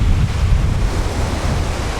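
Ocean surf rolling onto a city beach in India, a loud continuous wash of waves with heavy wind rumble across the microphone and no voices.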